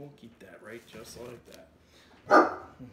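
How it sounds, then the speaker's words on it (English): A dog barks once, a short sharp bark heard near the end after someone talks in a kitchen. "He's barking at me."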